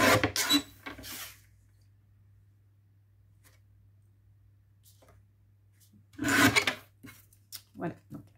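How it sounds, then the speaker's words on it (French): Scissors cut a 6 cm square from green paper for a star card, two bursts of close crisp snipping and rasping separated by a long quiet gap. "on va venir découper un morceau qui fait 6 cm par 6 cm."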